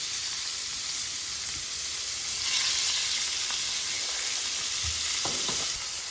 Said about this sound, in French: on a juste fait colorer notre viande un petit peu